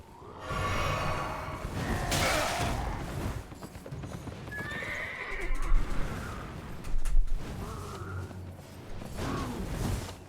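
Horse in the video game Elden Ring neighing loudly and kicking, with whinnies, snorts and hoof clatter across the stretch, close and prominent over game ambience.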